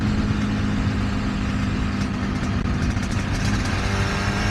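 A Suzuki RG500 motorcycle is ridden on the road. The engine drone runs loud and continuous with a steady low rumble, and wind and road noise mix in throughout.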